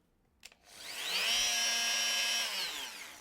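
A Bosch PMF 220 CE oscillating multi-tool runs at speed setting 1: after a brief click, a steady high-pitched mechanical whine rises, holds loud and close for about a second and a half, then winds down.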